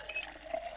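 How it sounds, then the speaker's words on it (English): Water sloshes and trickles faintly into bottles being filled in the Project Zomboid video game, a short, low-level liquid pour with no talking. "Fill water bottles."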